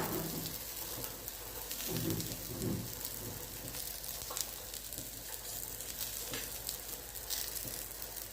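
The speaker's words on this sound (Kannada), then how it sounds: "ಎಣ್ಣೆ ಹಾಕ್ಕೊಂಡು 2 ಕಡೆ ಚೆನ್ನಾಗಿ ಬೇಯಿಸ್ಕೋಬೇಕು." Rice flour roti frying in oil on a hot griddle, a soft continuous sizzle with faint crackles throughout, close and fairly quiet, with no voices.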